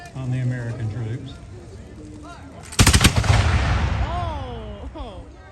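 Musket volleys from British troops of the 33rd Regiment at a Guilford Courthouse Revolutionary War battle reenactment: a loud close crash of massed gunfire erupts midway and rolls into a sustained crackling fusillade, with people talking nearby throughout.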